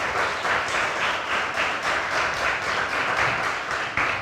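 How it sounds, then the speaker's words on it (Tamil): An audience on a dance stage applauds steadily to welcome a dance teacher, a dense, even wash of clapping from many hands. "பா. விஜயேந்திரன் ஆசான் அவர்களை ஒரு பெரிய கைத்தட்டலோட சலங்கொலி மேடை வரவேற்கிறது"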